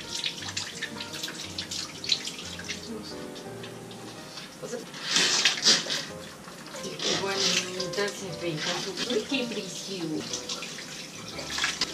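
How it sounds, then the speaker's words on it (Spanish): Water from a shower head sprays gently over a dog during a medicated bath, a steady hiss of running water with splashing surges, mixed with a person talking throughout. "Esta regadera resulta muy útil porque sale el agua suavemente"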